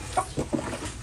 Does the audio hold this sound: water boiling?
no